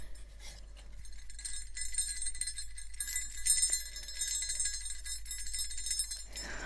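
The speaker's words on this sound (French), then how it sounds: "C'est ce petit Père Noël en bois avec une petite cloche." A small bell on a wooden Santa Christmas decoration tinkles lightly and repeatedly, bright thin chimes ringing out over a quiet background with faint handling noises.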